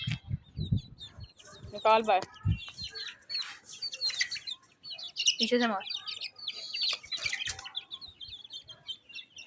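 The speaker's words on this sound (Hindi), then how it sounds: "अभी जो है मुर्गियों को खोल दिया" Chickens just let out of their coop cluck and chirp in a scattered, lively chorus of short calls at close to middle distance, while people talk nearby.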